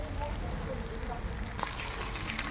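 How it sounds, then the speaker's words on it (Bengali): Water goes into a pan of frying spiced pointed gourd curry (potol), a broad, steady sizzling hiss that brightens near the end as the liquid hits the hot masala. "এবার আমি এর মধ্যে জলটা দিয়ে দেবো"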